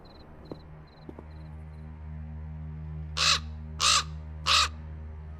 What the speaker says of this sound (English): Damn bird again. He's got his own private way into this room.